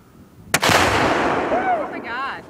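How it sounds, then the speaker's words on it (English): A Tannerite target packed with gas is hit by a shot and explodes in one loud, sharp blast, followed by a long rumbling roar that slowly fades, with voices faintly heard near the end. "that was tanerite with gas again"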